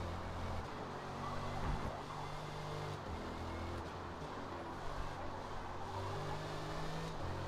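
Steady low rumble from a turbocharged inline-four car engine while driving, a continuous near drone with tonal hum bands rising and falling slightly, no voices over it.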